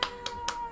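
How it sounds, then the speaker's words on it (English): Applause sound effect played during a tabletop role-playing game session, heard as short bursts of clapping-like noise at regular intervals over a steady background tone. "the audience applause starts playing"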